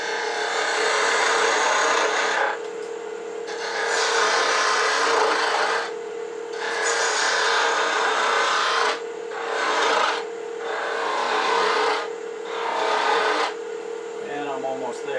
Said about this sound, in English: I want to switch to a 1/2 inch spindle gouge because I can remove material a little bit faster.